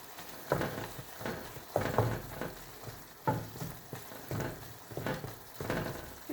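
Mushroom pepper roast frying in a pan, stirred in a regular rhythm of soft scraping strokes over a low, fairly faint sizzle.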